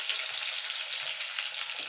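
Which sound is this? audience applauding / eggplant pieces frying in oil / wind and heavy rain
eggplant pieces frying in oil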